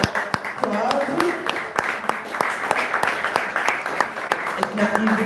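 An audience applauds children at a school for children with special needs, a steady wash of clapping running the whole time with sharper individual claps standing out, while voices talk over it.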